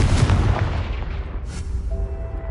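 A Confringo fire spell blasts in Hogwarts Legacy, a loud, close booming explosion that hits at once and then rumbles and fades over a couple of seconds.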